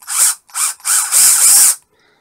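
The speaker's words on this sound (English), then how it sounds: "let's give that a try in the parkside drill" A Parkside cordless drill powered by a Wickes 10.8V battery whirs in three short bursts, the last one longer and loud, then stops.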